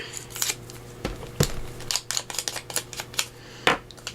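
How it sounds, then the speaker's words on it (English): A scrap of vellum paper is torn down to size while making a fabric-lined junk journal pouch, heard as close, uneven bursts of crisp ripping and crackling that end with a sharper tear. "So I'm going to tear that down just a bit."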